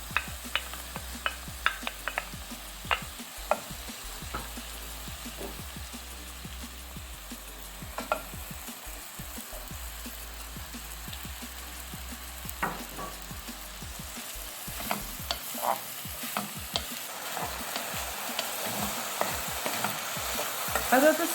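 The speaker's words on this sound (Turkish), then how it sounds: "Arada sırada karıştırarak sebzelerimizin yumuşamasını sağlıyoruz." Chopped vegetables for a vegetable soup sauté in a pot, a soft steady sizzle broken by repeated scraping and clacking of the stirring spoon, busier toward the end, with no talk.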